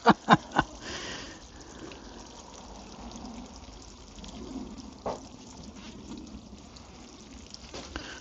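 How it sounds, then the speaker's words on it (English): Water drains through a hanging basket planted with a cactus, a faint, steady trickle and dribble after a few sharp knocks at the start, with no talk. "Bit boring, isn't it, watching water going into a hanging basket?"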